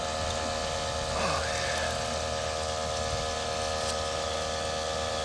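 Fuel pumps into a truck's tank with a steady, close mechanical hum and the rushing gurgle of liquid flowing, continuous throughout.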